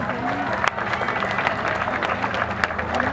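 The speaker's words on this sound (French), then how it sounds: "Justement, vous pouvez applaudir Ludo, s'il vous plaît." An audience applauds a performer at a live French-speaking show, a steady patter of many hands clapping at moderate level with crowd murmur mixed in throughout.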